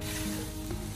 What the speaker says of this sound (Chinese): 我们将食材大火翻炒出锅气